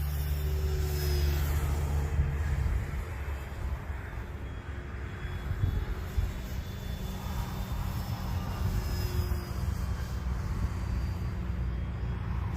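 An E-flite Turbo Timber radio-controlled airplane drones steadily overhead, its small engine buzzing continuously at a moderate distance, with faint outdoor background and no voices.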